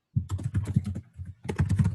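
Rapid clattering keystrokes on a computer keyboard during an online spec review meeting, close and continuous with a brief pause midway, no voices.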